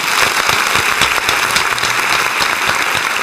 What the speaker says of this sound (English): Can I give my daughter a round of applause?